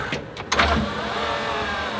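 A slow, weak electric power window motor in a Mazda Miata hums steadily in the cabin, a short click and bump at the start giving way to a continuous, even whir close by.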